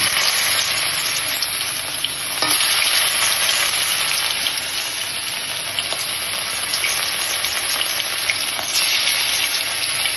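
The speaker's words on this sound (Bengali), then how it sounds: "তেলটা ভালো গরম হয়ে গেছে আমি এর ভিতর আস্তে আস্তে করে এই দেখো বসিয়ে দিচ্ছি" Chicken pieces marinated like kebab, set into very hot oil in a wok, give a loud, steady, dense frying sizzle that runs the whole time. The sizzle swells a little near the start as more pieces go in.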